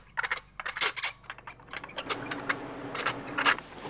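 A ratchet with a 14mm deep socket clicks in quick bursts while loosening the spark plugs on a 2024 Honda Civic Si, close and fairly quiet, with brief pauses between runs of clicks.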